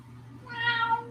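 A cat lets out a single drawn-out meow, close and fairly loud, rising in over a low steady hum in a quiet room.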